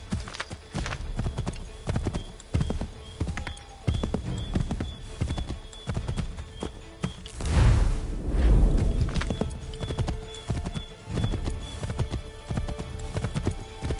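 Horses galloping in the Assassin's Creed 3 video game, with steady rapid hoofbeats throughout, a brief loud rumble midway, and faint voices in the background.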